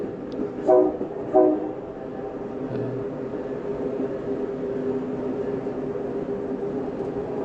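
An Amtrak train horn trades blasts with a Metro train: two loud, close horn blasts sound early, then a steady rumbling rail and engine drone carries on alone.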